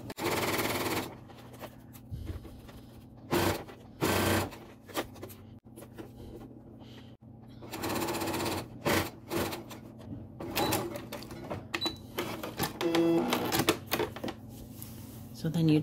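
Sewing machine stitching a section of fabric in bursts, bright rapid mechanical chatter running for a few seconds at a time with pauses between, mostly alone at close range.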